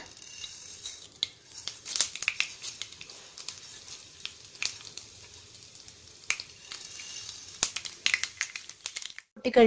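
Sharp, irregular pops and crackles of mustard seeds spluttering in hot coconut oil, scattered bursts over a faint sizzle.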